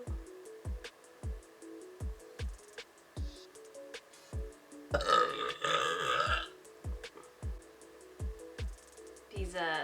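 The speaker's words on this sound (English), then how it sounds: "This beer is making me burp already." A long, loud rumbling burp after drinking IPA beer, in the middle, with faint background music and sound effects running throughout.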